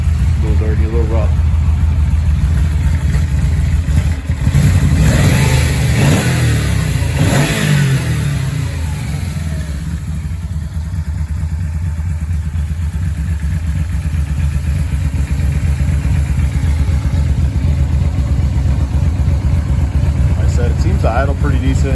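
Yamaha VMax motorcycle, a little dirty and rough, idling steadily outdoors in light rain, with its cooling fan running; a continuous low engine rumble carries throughout, with brief louder moments and someone talking over it.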